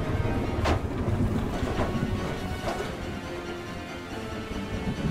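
A train rumbles steadily through the video game Choo-Choo Charles, with a dense low-end roll and a few sharp metallic clanks and rattles at irregular intervals, fairly loud and with no talking.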